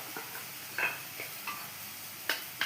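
Sugar is stirred into cooked flour in a pan, a spoon scraping and tapping in soft, irregular strokes with a faint sizzle beneath, quiet and close.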